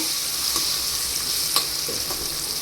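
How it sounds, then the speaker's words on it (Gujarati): Carrots fry in an oiled pan for a Gujarati cabbage-carrot sambharo, giving a steady, even sizzle throughout with a few soft scrapes and taps from stirring. "ત્યાર પછી આપણે તેમાં ગાજર નાખી દઈશું ગાજરને આપણે થોડીવાર માટે પાકવા દેવાના છે"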